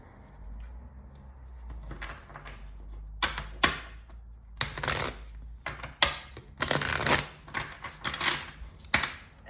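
A tarot card deck being shuffled and cut at close range, with irregular bursts of riffling and slapping cards over a low background hum.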